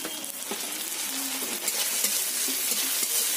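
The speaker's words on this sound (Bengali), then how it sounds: "রসুন আর পেঁয়াজ ভালো করে ভেজে নিতে হবে" Onion and garlic paste frying in hot oil in a pan, a steady bright sizzle with occasional stirring scrapes and taps, close and continuous throughout.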